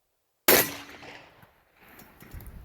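A single sharp, loud blast from a full bore 12 gauge .729 calibre rifle fired in the field, with a sudden onset and a long decaying tail and no talk over it.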